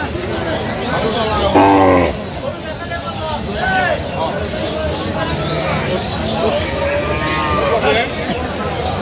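At the Aftabganj cattle market, a cow with her calf lets out several loud, drawn-out moos close by, heard over a steady babble of people talking throughout the busy market.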